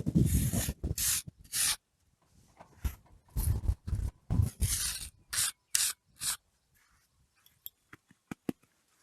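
A trowel scrapes and rubs across freshly applied lime plaster on a DIY pizza oven, giving bursts of close, gritty smoothing strokes separated by pauses, with a few light taps at the end.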